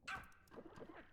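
A dog in a video game gives a short yelping bark and a whimper, with a few softer yips trailing after it. The sounds are close and fairly quiet, and there is no talk over them.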